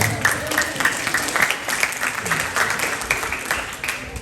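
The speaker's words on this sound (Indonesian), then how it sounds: "Kasih tepuk tangannya dulu yang meriah." Lively audience applause at an Islamic boarding school demonstration event in Bangil, dense rhythmic clapping from many hands, loud and sustained throughout.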